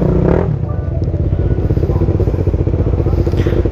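Several 250cc motorcycles ride together on the way to a wedding in Perak, giving a steady, loud engine drone with some wind rush throughout.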